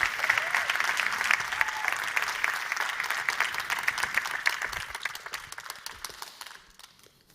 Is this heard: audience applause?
yes